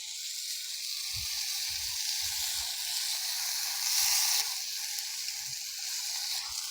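Boiled peas are poured into a pan of frying masala, producing a soft, continuous hissing sizzle. Low thumps and stirring sounds come through beneath it, and the sizzle briefly swells partway through.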